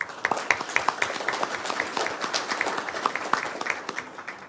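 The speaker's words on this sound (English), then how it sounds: "Please give those a round of applause." A crowd at a county Board of Commissioners meeting claps and applauds steadily for a few seconds, a dense patter of many hands close by.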